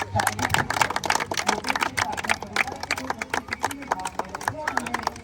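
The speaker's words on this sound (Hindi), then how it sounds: "बच्चों के लिए एक बार ताली हो जाए जोरदार।" An audience claps for children at an event of a school for children of nomadic families. Many sharp, irregular claps pile into a loud, continuous patter, with a voice talking over it.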